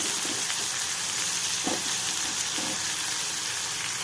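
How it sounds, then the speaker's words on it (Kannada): Ginger and garlic sizzle steadily in a hot pan with tomato for drumstick-leaf chutney, a dense continuous frying hiss with a few faint stirring clicks, close and alone without voices. "ಈಗ ಶುಂಠಿ ಬೆಳ್ಳುಳ್ಳಿನೂ ಹಾಕೋತಾ ಇದ್ದೀನಿ"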